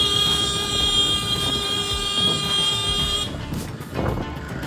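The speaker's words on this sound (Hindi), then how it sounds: "हॉर्न क्यों बजा रहा" A loud, sustained vehicle horn blares for about three seconds, then cuts out, leaving traffic rumble and faint background noise.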